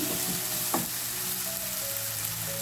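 Tomatoes fry in a pan until soft, a continuous close sizzle with a brief stir in the middle and a faint steady hum underneath.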